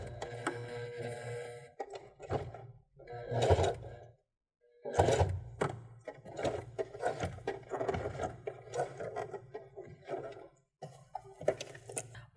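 A sewing machine stitches in short bursts, pausing between runs, then backstitches over a seam while a binding strip is sewn on; the mechanical whirring stays close and clear with no talk over it.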